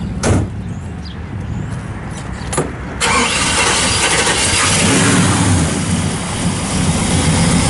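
After a few clicks and a brief pause, a 1966 Chevrolet Chevelle SS 396 engine with factory exhaust manifolds turns over and fires up, settling into a loud, steady rumble.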